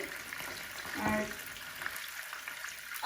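Chicken pieces, half-cooked and golden brown, frying in a shallow layer of hot oil for a kasundi chicken roast, giving a steady close crackling sizzle with a brief louder swell and a few faint clinks.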